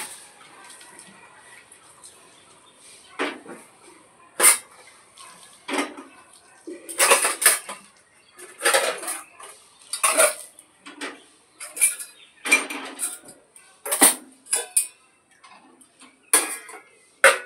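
Dishes, pots and cutlery are put away in a home kitchen after washing, with irregular clinks, clatters and metallic knocks spread across the whole stretch, close by and fairly loud, and no talking.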